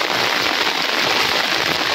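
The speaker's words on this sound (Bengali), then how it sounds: "এই যে দেখ আবার বৃষ্টি আরম্ভ হয়েছে।" Steady rain falls outdoors during a heavy-rain fishing outing, a dense, even hiss of drops with no break and no voices.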